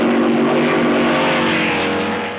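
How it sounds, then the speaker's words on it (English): A 1953 Formula 2 race car with a Maserati 250F engine roars loudly and close at high revs, a sustained buzzing engine note that fades slightly as it passes, old film recording. "This 1953 Formula 2 race has the new 250F Maserati, driven by Gonzalez"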